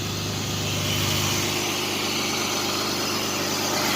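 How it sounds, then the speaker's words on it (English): The engine of a 2005 Jeep Grand Cherokee idling with a steady, even hum and a faint mechanical whir, moderately quiet and constant, with no voices. "Let's go listen to that engine."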